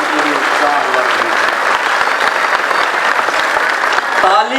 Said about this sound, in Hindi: ताली कमजोर है